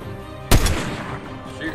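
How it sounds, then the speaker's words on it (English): Gunfire in a shooter video game: one sharp, loud burst of shots hits about half a second in, then a steady wash of game noise carries on for the rest. "I'm getting shot at all ends here."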